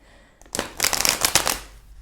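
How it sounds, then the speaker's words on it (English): A deck of tarot cards is shuffled close by, a quick burst of crisp riffling and flapping that lasts about a second and then fades, with no voices. "I'm going to put it back and shuffle"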